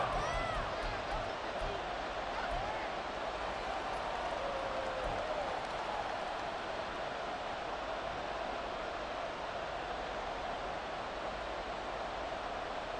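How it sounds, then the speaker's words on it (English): A continuous broadband roar of a stadium crowd in an EA Sports football video game, loud and steady for the whole stretch with no breaks. "this crowd doing their best to make a lot of racket"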